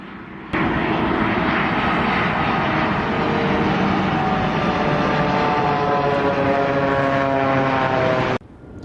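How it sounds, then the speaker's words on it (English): A Boeing 787's small ram air turbine fan whirs as the jet comes in, giving a loud, steady, propeller-plane-like drone that starts abruptly, holds for about eight seconds, then cuts off, with no talking. "it's just a little turbine fan. And you'll hear it sound just like a small airplane with a propeller."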